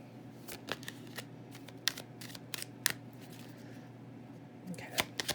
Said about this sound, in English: Just doing a quick shuffle.